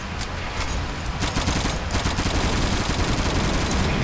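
Rapid automatic gunfire in the Gmod Zombie Survival game, a dense, loud stream of shots that starts a little lighter and then fires continuously at a high rate to the end.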